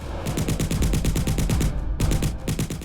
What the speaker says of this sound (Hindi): उरी सेक्टर में भी अचानक गोलियां चलनी शुरू हो गई